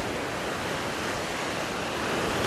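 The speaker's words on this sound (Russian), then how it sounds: "Видите, волна раскачивается, шторм шелестящий." Stormy sea surf at Anapa in the early morning, a continuous loud wash of breaking waves rolling onto the shore, with no voices.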